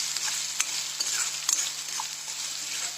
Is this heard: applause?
no